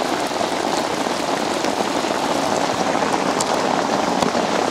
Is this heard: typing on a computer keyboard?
no